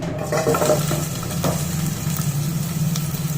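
Onions frying in a pan of oil while paneer dum biryani is being cooked, a steady close sizzle with light scraping and stirring clinks throughout.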